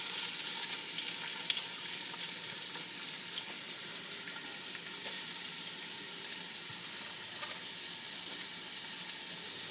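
Vegetables sizzling in olive oil in a large pot, a steady, bright, hissing fry that carries on evenly throughout, with a few faint clinks and no talking.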